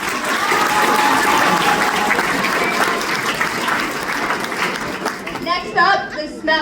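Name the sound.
crowd applause for the senior guys at a pep rally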